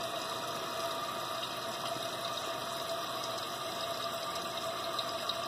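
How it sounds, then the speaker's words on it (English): A toilet tank refills after a repair to a leaking, running toilet, water rushing in as a steady, even hiss at moderate distance, with no talking. "You can see it filling up there, float's coming up"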